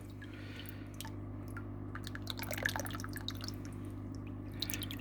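A Sicce internal aquarium filter runs with a steady low hum, while water trickles and drips from its directional nozzle in scattered soft splashes, with no talking.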